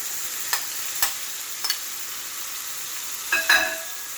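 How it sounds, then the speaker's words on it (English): Shrimp sizzle in a hot pan with an even, moderate hiss, marked by a few sharp utensil taps and scrapes near the pan. "At this point we go ahead and add the shrimp."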